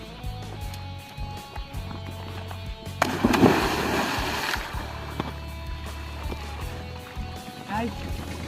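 Several people jumping one after another into cold water, a loud splash and churning water in the middle after some scuffling footsteps, with people talking and shouting around it outdoors.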